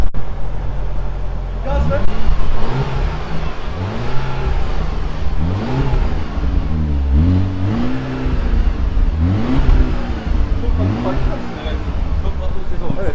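An Audi A5 with an aftermarket exhaust and a silenced rear muffler starts, then revs several times, each rev rising and falling over a steady idle rumble. Speech can be heard over the engine.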